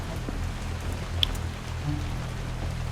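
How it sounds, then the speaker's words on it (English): Constant rainfall in the video game War Hospital hisses softly and evenly throughout, with a faint low background hum and one small sharp tick midway. "it's 2 in the afternoon, and it's always raining"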